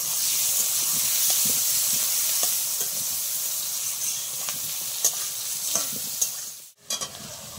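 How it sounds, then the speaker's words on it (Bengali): Chopped onions and potatoes fry in an oiled pan with a constant close hiss and sizzle, broken by scattered scraping stirs, until a short clatter near the end. "পেঁয়াজটাও ভাজা হয়ে যাবে, এর সাথে আলুটা আর একটু ভাজা হয়ে যাবে।"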